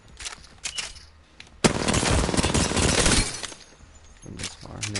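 Rapid automatic gunfire in Apex Legends, a loud sustained burst of about a second and a half standing out above quieter game sounds and a few scattered shots before and after.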